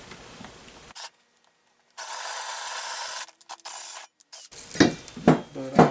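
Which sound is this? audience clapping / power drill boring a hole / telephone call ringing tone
power drill boring a hole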